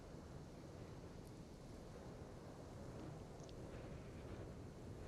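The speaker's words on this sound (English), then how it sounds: "I'm hearing wind blowing and I'm in a tornado watch." Wind blows steadily outdoors during a tornado watch, a constant low rushing roar buffeting the microphone, fairly faint and unbroken, with no voices.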